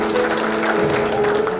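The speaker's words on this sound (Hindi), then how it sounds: "ताली बजाओ थोड़ा सा।" A village crowd claps in a steady, dense burst, loud and close, with no talk over it.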